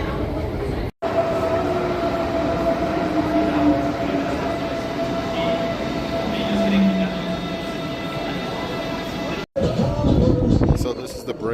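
A subway train rumbling along with a steady, droning roar and faint tonal whine, briefly cut twice, with some clatter near the end.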